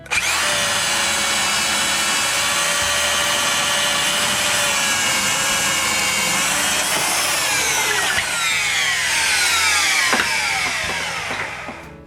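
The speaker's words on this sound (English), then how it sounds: "Then I mark the placement of the braces holes and drill them." A power drill bores brace holes into wooden sawhorse legs with a loud, steady high whine at close range. The pitch sags and rises again as the bit cuts through the wood, and the whine winds down at the end. No one talks.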